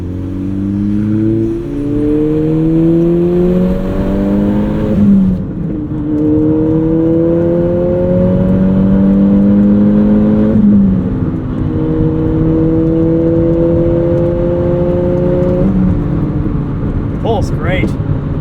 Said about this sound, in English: You gotta love this 2-liter turbo from Volkswagen. It is just such a great motor.